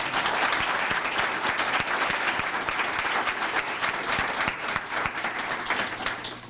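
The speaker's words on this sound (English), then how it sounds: "Please join me now in offering a round of applause to all of them." An audience applauds election candidates at a Meet the Candidates event: steady, even clapping from a room full of people that holds for the whole stretch without fading.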